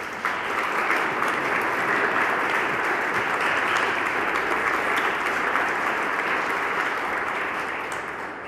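Sustained audience applause for a guest panel at a catalogue presentation in a museum of arts, steady dense clapping from a sizeable crowd lasting several seconds before fading slightly at the end.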